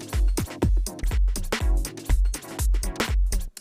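A punchy electronic beat with heavy kicks and snare hits plays, its pattern stuttering and repeating under a beat repeat effect, loud and without speech.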